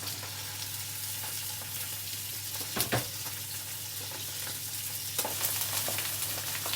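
Steady, loud sizzling of chicken skin frying in a hot pan, with a few brief clatters and stirring noises on top of the continuous hiss.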